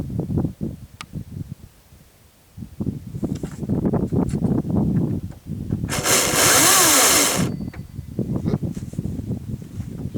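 A Hart 16-inch 40V cordless electric chainsaw revs loudly for about a second and a half in the middle, with clattering handling noises and rustling before and after.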